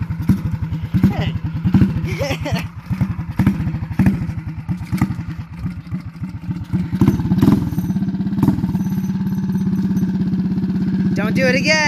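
Predator 212cc engine on a Motovox minibike starting up with rapid thumping pulls, then settling into a steady, loud, close idle while people talk over it.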